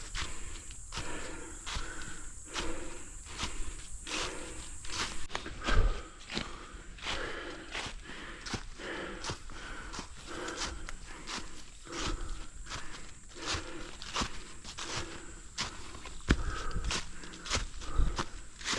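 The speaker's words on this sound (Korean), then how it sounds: "묵직한 발자국 소리만큼 한발 한 발의 힘겨움이 느껴지는 무거운 발걸음입니다" Heavy hiking footsteps crunch steadily along a mountain trail while climbing toward Hwangaksan on the Baekdudaegan ridge as dusk falls, each step a distinct close thud in a regular plodding rhythm, with no voices.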